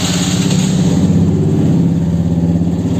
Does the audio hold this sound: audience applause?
no